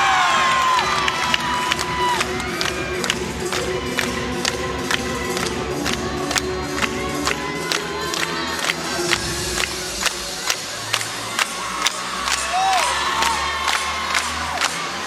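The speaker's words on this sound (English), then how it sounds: "Crowd is clapping along with Lippett." A gymnastics meet crowd claps along in a steady rhythm and cheers loudly through a floor routine, the regular beat of many hands repeating under continuous roar and shouts from the stands.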